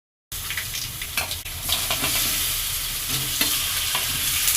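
Mustard seeds, chana dal and curry leaves fry in hot oil for a Tamil vegetable gravy, starting abruptly with a loud, dense crackle that swells after the leaves go in, with scattered pops throughout.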